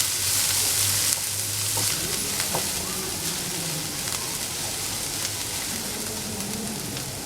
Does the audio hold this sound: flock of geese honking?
no